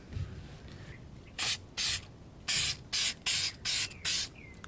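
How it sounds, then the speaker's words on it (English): Spray adhesive hisses onto poster board in about seven short, sharp bursts, close up, with quiet gaps between them. "You really don't need too much spray adhesive, just a little bit, just a light coat"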